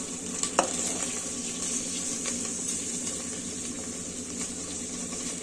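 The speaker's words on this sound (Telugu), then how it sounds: "కాలీఫ్లవర్ అన్నీ వేయించుకోవాలండి నెయ్యిలో." Vegetables including cauliflower, potato, carrot and capsicum frying in ghee for masala khichdi, a steady close sizzle with an early utensil clink and light stirring scrapes, no voices.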